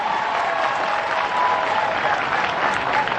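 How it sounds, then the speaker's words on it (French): A crowd at a diploma ceremony in Ouagadougou claps steadily throughout, a dense, even wash of applause at moderate loudness with no pauses. "applaudissez pour vous-même"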